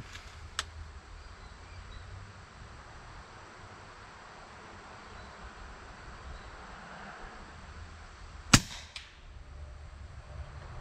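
A rifle fires a single sharp, loud report late on, fairly close and with a short ringing tail, after a faint click earlier and steady outdoor wind noise, no talk.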